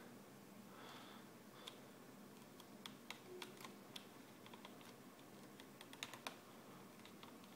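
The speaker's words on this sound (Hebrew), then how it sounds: "ועוד מקלדת לא מכנית של מייקרוסופט." Quiet typing on a non-mechanical Microsoft keyboard, a loose run of soft, close key taps with irregular spacing and no speech.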